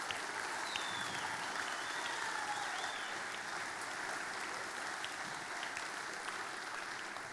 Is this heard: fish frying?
no